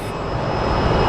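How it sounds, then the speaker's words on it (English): A Boeing 777 jet bound for Heathrow lines up for takeoff at Sky Harbor Airport, giving a loud, steady engine roar with a thin high whine, heard alone and close. "it looks like the 777 that is about to go to Heathrow is lining up for takeoff"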